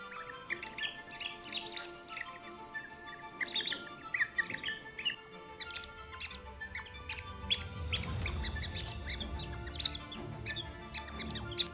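A fox-hunting lure imitates a bird in distress, with rapid high squeaks and squawks in uneven bursts, fairly close, over faint low outdoor rumble.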